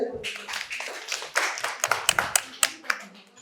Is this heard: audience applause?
yes